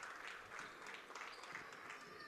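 Crowd applause at a youth U-18 basketball game, a faint, steady patter of clapping spread across the arena with voices murmuring underneath.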